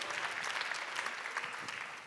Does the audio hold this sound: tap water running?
no